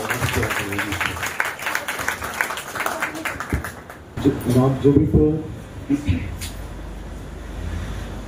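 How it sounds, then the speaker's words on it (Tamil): A church congregation claps to welcome the bishop at a CSI Maundy Thursday confirmation service: dense, steady applause fills the first few seconds, then fades into a quieter hall with scattered voices and movement. "அவரை வருக வருக என்று கைத்தட்டி"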